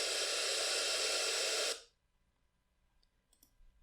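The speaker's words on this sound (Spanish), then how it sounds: "ruido rosa" Pink noise generated in Wolfram Mathematica rushes as a full, even hiss for under two seconds, then stops sharply, leaving quiet room tone with a couple of faint ticks.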